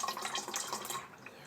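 Brake fluid is poured through a funnel while bleeding the brakes on a BMW E65/E66, a short, soft liquid trickle and gurgle that fades near the end, quiet and close.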